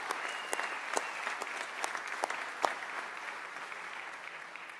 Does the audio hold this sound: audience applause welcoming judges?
yes